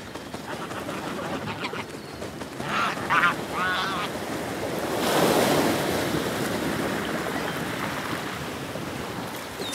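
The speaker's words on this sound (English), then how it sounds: "The crashing waves intrigue them." Ocean waves crash on a sandy beach in a steady roaring wash with wind, swelling into a louder surge midway, while a few brief bird calls sound over the surf.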